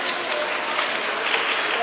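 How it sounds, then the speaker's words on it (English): A round of applause from a church livestream gathering at St. Clare of Montefalco, dense, steady crowd clapping filling the whole stretch at an even level. "we give another round of applause to every single person"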